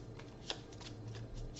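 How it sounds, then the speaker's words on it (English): A deck of cards is shuffled at close range during a two-player game of Pocket Mars, giving soft repeated riffling bursts against a quiet background. "draw a card, and I will shuffle"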